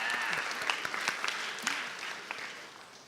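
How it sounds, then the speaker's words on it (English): A short burst of audience applause at a visiting artist talk, many hands clapping together in a room and fading slightly toward the end. "applause?"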